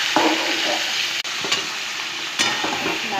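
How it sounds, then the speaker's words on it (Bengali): Mutton pieces frying in a hot pan with spices, a steady loud sizzle broken by scraping stirs of a spatula and a brief clatter, close up and with no talking. "আমি মাটনটা এখন দিয়ে দিচ্ছি"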